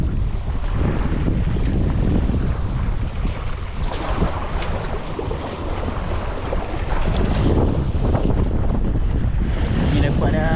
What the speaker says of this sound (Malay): Angin dah kuat dah.